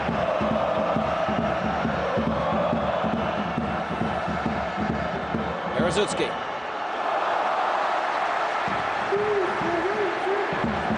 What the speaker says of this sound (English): The applause great for the Slovenians at the moment, roaring them on